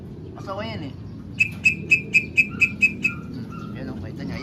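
A small pastel-coloured pet bird gives a quick series of about eight bright, evenly spaced chirps, close by, with a softer warbling call before them and faint background noise.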